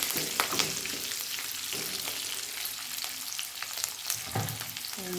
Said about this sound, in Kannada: ಮೆಣಸಿನ್ಕಾಯಿ ನೋಡಿ ಕಡಿತಾ ಇದ್ದೀವಿ ಸ್ವಲ್ಪ ಫ್ರೈ ಆಗಬೇಕು